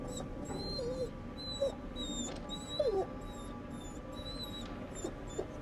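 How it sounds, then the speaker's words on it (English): A dog in The Devil in Me horror game whimpers in a few thin, wavering cries spread across a quiet, eerie backdrop with faint high chirping tones; no one speaks. "Oh, it's a dog!"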